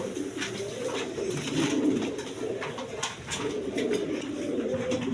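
Pigeons, including a Lakha female, coo in soft, low, repeated throaty calls close by, overlapping in a steady murmur with faint rustling and no speech.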